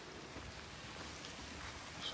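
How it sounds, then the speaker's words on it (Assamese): Steady rain falls in a continuous soft hiss at Dibrugarh University, an even wash of drops with no voices. "বৰষুণ বৰষুণ বৰষুণ।"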